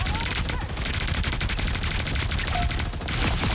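Rapid, sustained turret gunfire from the Punisher in Marvel Rivals, a loud continuous stream of evenly spaced shots running through the whole stretch without pause.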